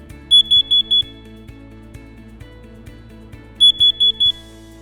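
A home smoke alarm sounds its evacuation signal: two bursts of rapid, shrill, piercing beeps separated by a pause of about two and a half seconds, loud and close with a faint background hum.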